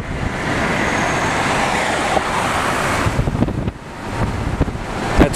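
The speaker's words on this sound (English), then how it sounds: "This is 4 o'clock traffic." Four o'clock street traffic in New York, a dense wash of passing cars and road rumble mixed with gusty wind buffeting the microphone, with a brief dip and some louder knocks toward the end.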